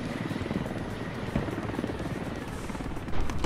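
Helicopter in the military shooter game Squad, a steady thudding rotor drone with a buzzing engine tone, fairly loud and continuous, swelling slightly near the end.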